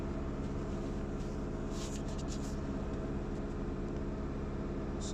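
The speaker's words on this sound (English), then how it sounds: "But while it's doing the DPF regen, the sound of the engine is different." Car engine idling in place during DPF regeneration, a steady low drone and hum that holds evenly for several seconds with no voices.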